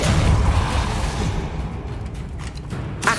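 Depulso spell cast in Hogwarts Legacy: a loud, dense magical blast that swells at once and then slowly decays over a few seconds, ending in a brief sharp crackle.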